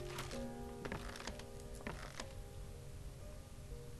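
A wooden drawer in the Layers of Fear horror game creaks as it slides shut, with a few sharp clicks and knocks over a steady low background hum.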